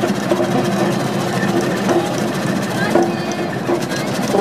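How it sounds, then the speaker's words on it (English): Steam traction engine running at a country steam rally, a close, loud, rhythmic mechanical chuffing and clatter with an underlying low rumble, while someone talks over it. "A very sophisticated bit of rolling equipment, that is the fast steam engine."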